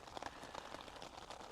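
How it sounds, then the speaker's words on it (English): Rain patters on a tent during a camping trip, a faint, steady hiss of dense drops with soft scattered taps and no voices. "Hopefully we'll get a break in this rain as well."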